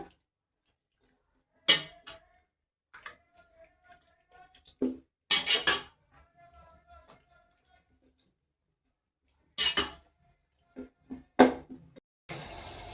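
Chicken being stirred with masala in a pot, heard as scattered metallic scrapes and clinks of a spoon against the pot in short bursts with quiet gaps between, fairly close and with no talking.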